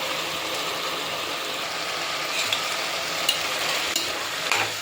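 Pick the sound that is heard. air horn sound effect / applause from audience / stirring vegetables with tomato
stirring vegetables with tomato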